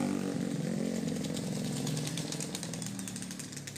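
A polishing machine runs steadily on the freshly painted glossy black body of a 1981 Colt T120, a loud, continuous buzzing whine up close that eases slightly toward the end.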